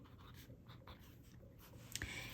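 An extra fine Jinhao fountain pen nib scratches faintly across paper in short soft strokes, quiet and close against a low background hum.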